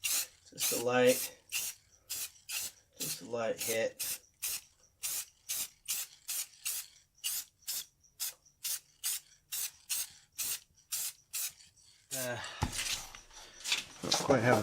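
Short bursts of spray finish hit a wooden sign in a garage, about twenty quick hisses in an even rhythm. The first bursts are mixed with a voice, and a rougher rustle closes the run.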